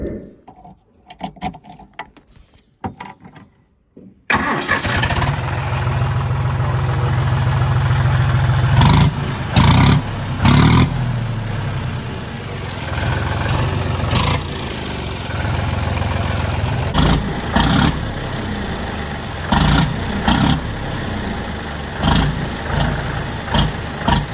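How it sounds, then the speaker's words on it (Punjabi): After a few quiet seconds, a modified John Deere tractor engine starts and runs with a steady low rumble, punctuated by sharp bursts and revs. "ਹੁਣ ਆਪਾਂ ਤੁਹਾਨੂੰ ਸਾਊਂਡ ਸੁਣਾ ਦਿੰਦੇ ਹਾਂ ਟਰੈਕਟਰ ਦੀ ਕਿਹੋ ਜੀ ਸਾਊਂਡ ਆ"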